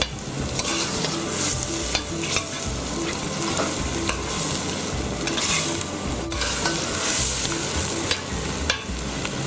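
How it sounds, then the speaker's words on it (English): Snails cook in garlic butter with shallots in a pan, giving a continuous busy sizzle with repeated sharp spoon or spatula scrapes and clicks against the pan. "we're going to just add the snails to the garlic butter and shallots, and we're just going to cook them for a couple of minutes"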